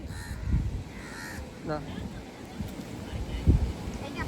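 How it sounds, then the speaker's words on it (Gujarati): A crow on a windy Goa beach gives a few harsh caws, the clearest one in the middle of the clip, over steady wind and microphone rumble. "કાગડા ને બિસ્કિટ આપે છે કાગડો લઈને વીરો જાય છે"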